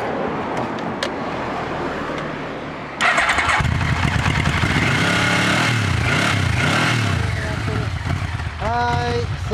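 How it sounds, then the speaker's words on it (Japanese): A 1998 Kawasaki W400 motorcycle engine starts up and runs loud and close, a steady mid-pitched rumble with rising revs. Quieter background noise comes before it, and a brief voice is heard near the end. "すみません、エンジン音聞かせてもらえますか。"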